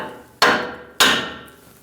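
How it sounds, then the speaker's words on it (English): Two sharp, loud hammer strikes about half a second apart, knocking a tie rod end loose on the front suspension of a 2011-2018 Ram 1500 during a lower ball joint replacement, each ringing briefly before decaying. "You can use a removal tool or just tap it with a hammer."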